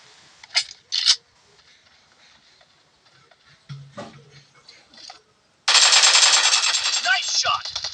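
Video game gunfire: a few sharp isolated shots early on, then a loud sustained burst of rapid automatic fire near the end, with faint background sounds between.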